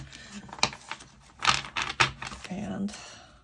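Stiff new tarot-style oracle cards riffle and snap in quick bursts, a shuffle close by with soft clicks and rustles between the louder flurries.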